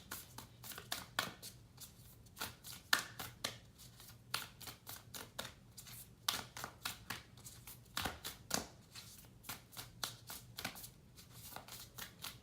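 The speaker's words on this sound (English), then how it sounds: "I'm going to give it one more shuffle" A tarot card deck being shuffled by hand, with dense runs of quick papery riffles and flicks repeating steadily throughout, close and fairly quiet with a faint low hum underneath.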